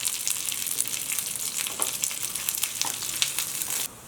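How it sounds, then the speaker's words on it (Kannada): Garlic, curry leaves and chili powder frying in oil for tomato dal, a dense, bright sizzle up close with a few stirring scrapes, cutting off abruptly near the end. "ಇನ್ನೊಂದು ಸ್ವಲ್ಪ ಬೆಳ್ಳುಳ್ಳಿ ಎಲ್ಲ ಚೆನ್ನಾಗಿ ಫ್ರೈ ಆಗಿದೆ."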